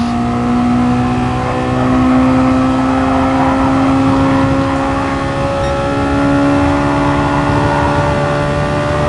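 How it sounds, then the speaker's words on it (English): A race car engine revs hard and high in top gear, a loud sustained whine that climbs and holds steadily near the limit with no speech. "he really lets those revs go to the max"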